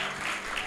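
A church congregation applauds during a Sunday worship service, a dense, steady wash of many hands clapping that lasts under a second.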